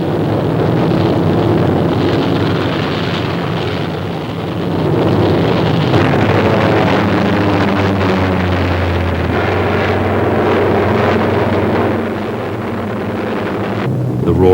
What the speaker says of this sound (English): The roar of their engines filled the sky as they assembled into squadrons, groups, and wings